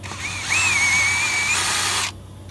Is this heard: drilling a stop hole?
yes